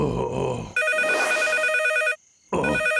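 A telephone rings in a cartoon, with a brief voice at the start, then two loud electronic trilling rings separated by a short pause.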